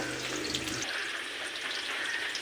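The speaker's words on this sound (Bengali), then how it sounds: "এবার ভালো করে আলুগুলো ভেজে নেব" Potatoes fry in oil in a wok, giving a steady, moderate hiss and crackle with a low rumble that drops away early on.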